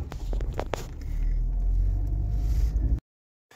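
A car engine rumbles steadily at close range during a drive home, with a few brief knocks early on before the sound cuts off abruptly near the end.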